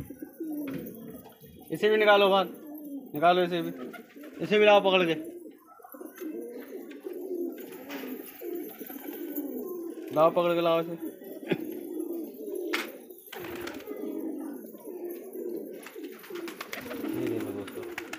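Pigeons coo in several throaty, rolling bursts, close by, while a person talks over and between them.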